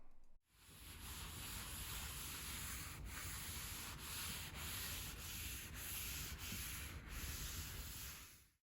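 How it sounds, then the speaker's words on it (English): Oil being rubbed into a Star Wars-themed wooden inlay by hand: a close, continuous, even rubbing hiss with faint rhythmic strokes, heard alone. "I was going to do a ASMR wood oil rubbing so you guys can listen to this for about 10 seconds"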